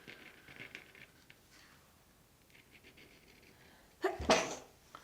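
A single sharp sneeze bursts out close by near the end, after several seconds of quiet pencil scratching and paper rustle during a drawing session.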